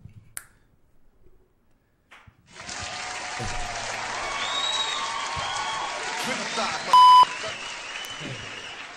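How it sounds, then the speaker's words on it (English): Studio audience applause on a talk show, bursting in after a quiet start and holding as a steady, close round of clapping for about six seconds, with a brief electronic beep near the end. "Can I get an applause, please?"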